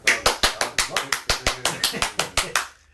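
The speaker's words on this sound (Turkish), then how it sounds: "Alkış alkış alkış yap bakalım." A small group claps hands in a quick, even rhythm, about fifteen sharp claps close by, then stops abruptly.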